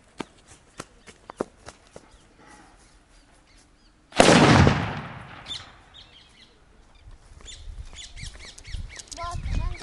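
A sutli bomb firecracker placed on a bike tyre explodes in one sharp, loud blast with a decaying rumble, preceded by faint clicks and followed by rustling and distant noise.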